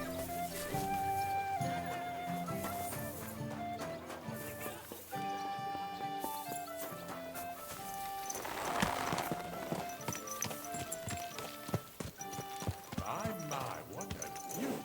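Hooves clip-clop at a steady walking rhythm in the video game Kingdom Come: Deliverance 2, playing under a full orchestral music score.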